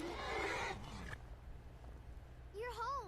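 A video game horse neighs with a rising, wavering whinny near the end, after a short burst of muffled noise and a quiet stretch.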